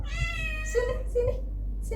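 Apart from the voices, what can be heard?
pet cat meowing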